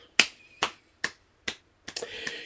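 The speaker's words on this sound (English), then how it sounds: "You don't see me clapping on these pack openings terribly often." Hand clapping: five sharp, evenly spaced claps about half a second apart, close and crisp, then a couple of quicker, softer claps trailing into light background noise.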